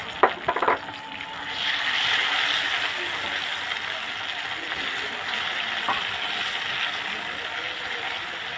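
Ground masala frying in oil for small-onion sambar: a few clattering knocks at the start, then a steady close sizzling hiss that holds evenly to the end.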